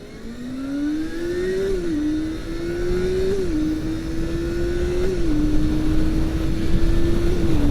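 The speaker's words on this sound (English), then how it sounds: "We'll do a 0 to 60 on this road, and we'll see what that's like." Honda Hornet 250 motorcycle accelerates hard from 0 to 60 on an open road, its engine pitch climbing steadily through several gear changes, loud and close with wind rush building.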